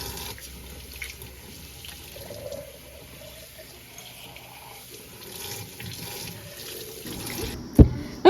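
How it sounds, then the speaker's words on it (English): Canning jars washed in a sink under running tap water, a steady close trickle and splash with faint glassy knocks, ending in a louder clunk near the end. "Next up is washing jars."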